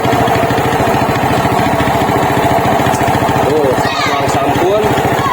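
A 1997 Honda Grand motorcycle with an NMAX regulator fitted idles steadily nearby with an even, rapid putter, while someone speaks over it.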